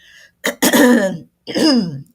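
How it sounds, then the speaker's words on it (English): A person coughs and clears their throat in a few harsh, raspy bursts, close and loud, separated by brief pauses. "I've got this tickle, this thing that happens when I talk a lot that I start coughing."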